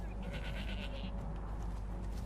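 A goat named Capra in Skyrim bleats in a brief wavering cry over a low game-ambience hum, fairly faint and heard once before fading into the background.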